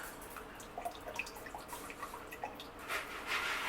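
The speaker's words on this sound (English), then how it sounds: "I'm going to just add a little bit of the water that's in the crock pot into the blender" Water from a crock pot trickles and splashes softly into a blender, a quiet uneven pouring with small drips, growing a bit louder toward the end.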